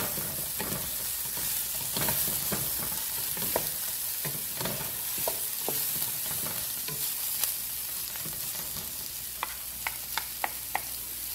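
Frozen wontons tossed and stirred in a sizzling pan: a steady hiss of frying with repeated clattering knocks from the tossing, ending with a few sharp clicks near the end. No one speaks.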